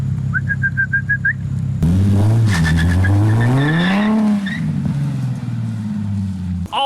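A burnout car drifting into a garage: engine revving hard with rising and falling pitch over a steady rumble, joined by a loud tire squeal, close by, with a few chirping bird calls at the start.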